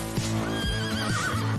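A horse neighs loudly and close, a strong whinnying call with rising and falling pitch that fills the moment with no talk over it.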